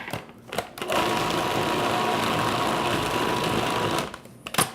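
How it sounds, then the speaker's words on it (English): A food processor motor whirs steadily for about three seconds while chopping and mixing a Greek lamb meatball mixture, starting and stopping abruptly with short clunks of handling at each end. "You want to move that around the food processor a little bit."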